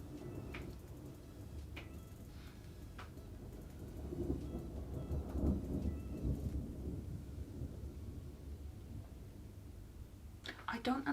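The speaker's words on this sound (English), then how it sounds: "I don't understand how people don't like Thunder and Lightning." Thunderstorm with rain falling steadily, low rolling thunder swelling in the middle and a few sharp crackles, all faint and distant.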